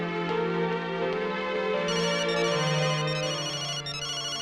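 A phone ringtone plays loudly and steadily, a bright, melodic electronic ring that fills the room with no talking over it.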